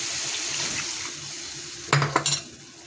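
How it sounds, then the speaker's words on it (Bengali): Water is poured into a cooking pan of egg curry, a faint hiss followed by a brief splashing burst with clinks of utensil against the pan, close and without talking. "এবার আমি দিয়ে দেবো জলটা"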